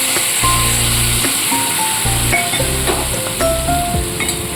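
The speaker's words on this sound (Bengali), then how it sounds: "একটু মশলাটা কষিয়ে নিতে হবে গুঁড়ো মশলা সামান্য কষিয়ে নিয়ে" Ground spice paste loosened with water sizzles steadily in a pan while being cooked for a cabbage dish, a continuous loud frying hiss over a faint tonal background.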